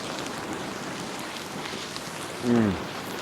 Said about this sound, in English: It's pelting down. It's so loud. The rain on the tarp.